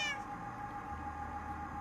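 An orange cat meows with a clear harmonic call at the start, then a steady tone and low background noise continue with no further meows, fairly near and alone.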